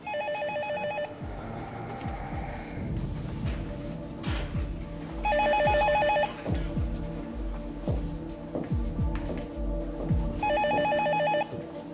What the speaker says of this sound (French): C'est le portable de Werner.